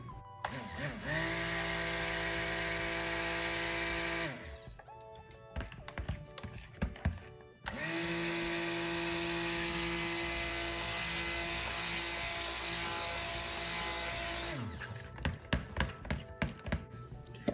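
A stick blender whirs through coconut soap batter in two long, steady motorised runs with a high whine, separated by a pause of clattering and tapping before the motor starts again.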